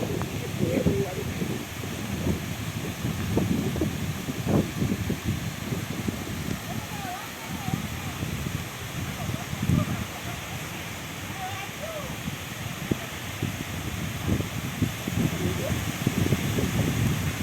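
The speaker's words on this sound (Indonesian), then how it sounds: "angin ombak." Strong wind and surf on Nolloth beach, a continuous roaring wash with gusty low buffeting against the microphone and irregular surges from breaking waves, steady and loud throughout.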